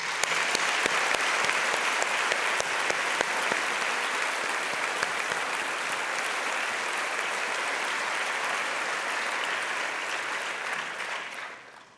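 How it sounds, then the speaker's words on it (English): A crowd at a graduation ceremony gives a big round of applause during a valedictorian speech, a full, continuous roar of many hands clapping that stays strong for about ten seconds before fading out at the end. "Please join me in giving them a big round of applause."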